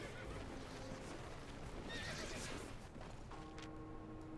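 A horse neighs in the video game Albion Online, a clear whinny standing out over steady game ambience and faint hoof clopping, with no talk over it.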